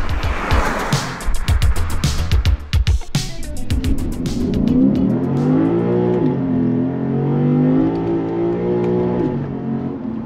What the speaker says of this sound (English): You want to hear the engine, so let's go for a drive.